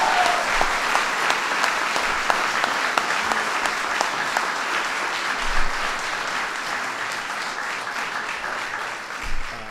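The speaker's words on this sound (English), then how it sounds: "Worth a big round of applause." A crowd at a White House welcome for the Kentucky Wildcats basketball team breaks into sustained applause, a loud, dense wash of many clapping hands that holds steady for nearly ten seconds with almost no talk.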